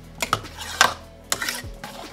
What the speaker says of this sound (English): And then I stir that. Stir that.